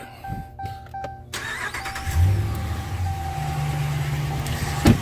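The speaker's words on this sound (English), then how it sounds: "Start the truck." A 2015-or-later Mopar truck engine cranks and catches at about two seconds, then settles into a steady idle. It is fairly close and alone, with a brief thump near the end.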